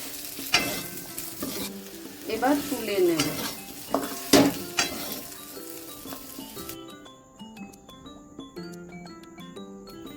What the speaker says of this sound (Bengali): শাউর আর আলুটা তেলে দিয়ে দেওয়া হলো। এবার লাল লাল করে ভাজা হয়ে গেছে